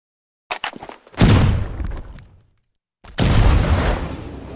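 In the Roblox game Jujutsu Shenanigans, a grenade move sets off two heavy booms: a few quick clicks and pops lead into the first blast, then after a short silence a second deep explosion rumbles on.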